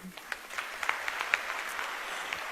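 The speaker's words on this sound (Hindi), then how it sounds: "स्टूडेंट्स को तो तालियां बजानी चाहिए" Students clap in a steady, soft wash of applause at a motivational talk, faint and somewhat distant with a few sharper individual claps.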